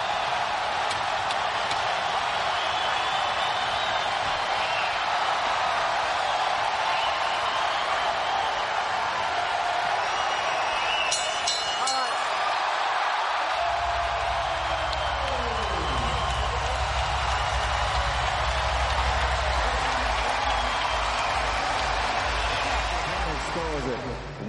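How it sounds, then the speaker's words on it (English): A boxing arena crowd in Macau roars steadily through a Pacquiao–Rios bout, a dense, continuous wall of cheering and applause with commentators talking over it. "The crowd loves it. They're on their feet in Macau."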